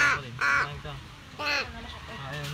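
A crow gives several harsh caws in separate bursts, fairly close and clear over a quiet outdoor background, with talking faintly in between.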